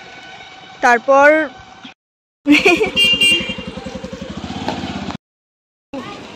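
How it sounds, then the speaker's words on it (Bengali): A train pulls out of a station in West Bengal on the way to Bolpur, a loud rumbling passage with horn-like tones under a burst of nearby talk, ending abruptly. "একটা ট্রেন বেরিয়ে গেল"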